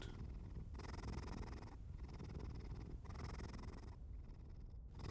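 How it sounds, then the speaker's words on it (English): A cat purrs softly and close by in a steady rhythm, each breath cycle rising and falling about once every second and a half, with no other sounds. "the purring will still be there, waiting"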